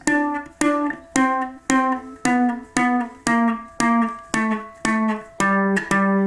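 A plucked ukulele plays about a dozen single notes stepping downward, evenly spaced, each ringing briefly before the next, clear and close.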